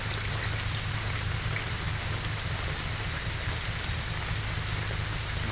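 Steady rain falling, a constant dense hiss of drops hitting surfaces that stays even and fairly close throughout, with no voices.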